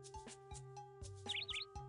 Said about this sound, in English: The Xenops bird is one of the few animals that start with the letter X